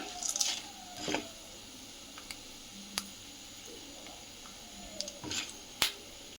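Poha upma being stirred in a pan, soft squishy scrapes and taps in scattered bursts, close and fairly quiet with pauses between strokes.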